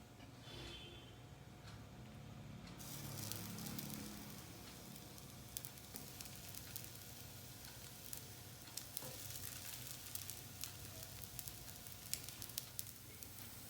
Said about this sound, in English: I'm going to shallow fry the rolls on a cast iron tawa with some oil, and it will be done on medium flame.